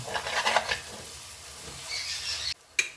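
Curry leaf mixture frying and being stirred in a pan, a soft sizzle with scraping stir strokes in the first half, then a brief pause and a final scrape, close and quiet, no talk.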